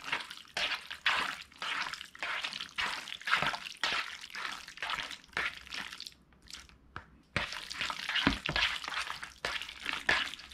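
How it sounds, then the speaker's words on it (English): Pork being mixed by hand in a jalapeno and Shaoxing rice wine marinade, with wet squishing and dripping sounds in a steady, close, irregular rhythm that stops briefly near the middle. "Just use your hand, mix it, marinate it together."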